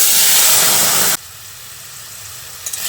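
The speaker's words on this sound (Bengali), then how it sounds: "এবার ফোড়নটাকে কয়েক সেকেন্ড ভেজে নিচ্ছি।" Spices and a bay leaf fry in hot oil for tempering, giving a loud, bright sizzle for about a second before it cuts off abruptly to a faint hiss.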